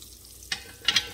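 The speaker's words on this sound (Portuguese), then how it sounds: "O alho vai fritando aqui junto." Garlic fries in butter in a pan, giving a soft steady sizzle with a couple of brief louder crackling bursts.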